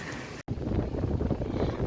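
Strong cyclone wind buffets the microphone in a constant low roar, with a brief dropout near the start and no voices.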